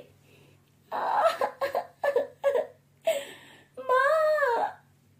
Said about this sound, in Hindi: इतने में सीमा भी मानसी के रोने की आवाज सुनकर वहां आ जाती है